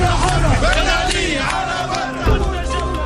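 Thousands of protesters inside a building chant a slogan together, a loud, dense mass of voices rising in rhythmic shouts close by, with crowd roar filling the whole stretch.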